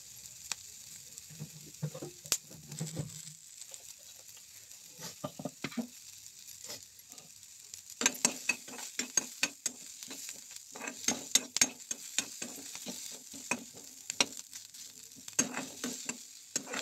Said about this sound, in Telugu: ఉల్లిగడ్డని ఇలా వేసుకున్నాను అనమాట. ఇంకా ఇలానే వేయించాలి ఇంకా కొద్దిసేపు.